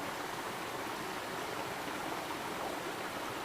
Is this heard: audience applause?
no